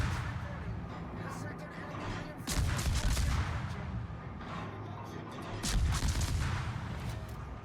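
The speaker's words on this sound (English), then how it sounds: "It's shooting at the aircraft carrier." Ship gunfire from World of Warships, naval guns firing at an aircraft carrier, heard as booming salvos in a couple of clustered bursts over a rumbling battle din, moderately loud with a voice speaking in between.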